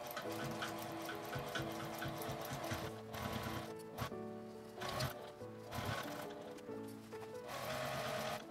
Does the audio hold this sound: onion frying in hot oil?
no